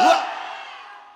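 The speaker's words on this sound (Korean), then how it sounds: "우리 함성 준비하면 우악 하는 거예요" A church congregation at a prayer-retreat revival meeting lets out a single loud, unified battle-cry shout, bursting at once and then trailing off into a sustained crowd roar.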